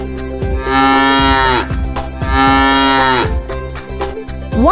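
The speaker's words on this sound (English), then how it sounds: "The cow says moo moo." A cow lowing loudly in two long, drawn-out moos, close and clear, with a repeating musical backing underneath and no talking.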